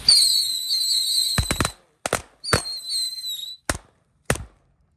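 Mercon tikusan firecrackers, a pack of small Indonesian spinning fireworks, shrieking with shrill whistles while several sharp cracks pop in between, close and loud, with no speech.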